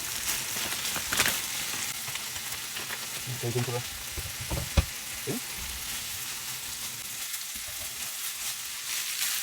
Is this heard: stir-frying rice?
yes